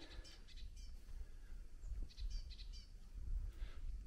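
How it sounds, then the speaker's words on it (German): Birds chirp in a snowy Finnish forest in mid-March, scattered faint calls repeating across the clip over a low wind-like rumble. "Vögel zwitschern."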